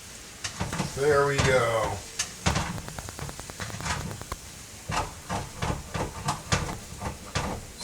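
Liquid hits a hot pan of kimchi bacon fried rice, giving a soft sizzling hiss broken by repeated clicks and scrapes, with a short spoken phrase early on.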